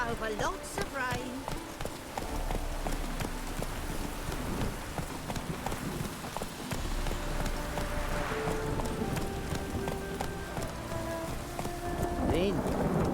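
Steady rain patters in The Witcher 3: Wild Hunt, near some ruins, with horse hoofbeats clopping through the downpour. A voice talks over the constant hiss for most of the stretch.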